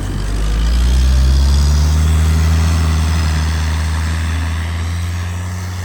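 Heavy tented truck engine revving hard in extreme cold around -55°C, a loud, close, sustained low roar that holds steady for several seconds and then eases slightly, with no talking.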